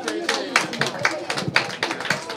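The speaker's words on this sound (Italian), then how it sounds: "un applauso a Felice." A small group claps for Felice at a bookshop book presentation, with quick uneven handclaps close by, no crowd roar, and the claps rising and falling in bursts.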